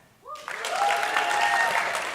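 After a brief quiet moment, a conference crowd bursts into sustained clapping with a couple of whoops, holding a full, even roar of applause.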